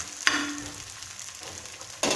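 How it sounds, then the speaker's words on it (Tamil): A pearl millet and fenugreek leaf dosa sizzling on a hot pan after being flipped, a soft steady frying hiss between two sharp clatters of the turn, with no voice. "திருப்பி போட்டு இந்த மாதிரி போட்டு நல்லா வேகும்"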